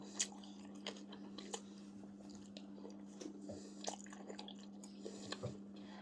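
Spicy salmon papaya salad is chewed close to the mic, with soft wet crunches and squishy bites scattered irregularly over a quiet background hum.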